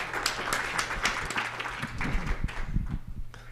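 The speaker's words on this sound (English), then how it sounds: "give him a hand of applause" Conference audience applauding a speaker after a question session at an energy event, a continuous spread of clapping with a low hum beneath and some muffled thumps toward the end.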